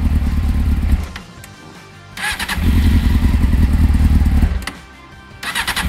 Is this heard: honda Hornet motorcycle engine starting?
yes